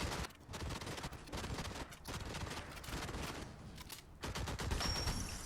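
Sustained BAR M1918 automatic fire in Fallout 4: long rapid bursts of gunshots with brief pauses between them, loud and continuous for several seconds.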